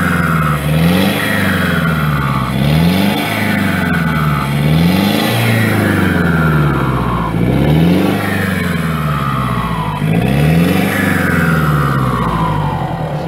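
An Iveco truck engine is revved hard over and over in a steady rising-and-falling rhythm, loud and close, each surge climbing in pitch before dropping back, with no voices.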